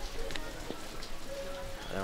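Steady rain patters across an outdoor trap shooting range during a women's World Cup final, a dense hiss of drops filling the background with faint voices mixed in.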